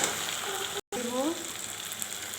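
Chicken curry sizzling steadily in a pan, broad frying hiss throughout, broken by a short silent cut, then a brief bubbling swirl as a little hot water goes in and the sizzle carries on.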